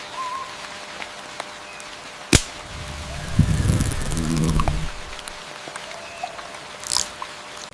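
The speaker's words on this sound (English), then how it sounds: "Rain returns, and life sings louder still." Steady rain falling in a forest, a soft continuous hiss with a denser patch of pattering drops midway, plus a sharp single knock and a few faint bird calls.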